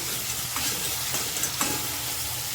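Softened tomatoes with garlic and curry leaves being smashed in a pan, giving a quiet, steady sizzle broken by a few soft scraping thumps from the spoon.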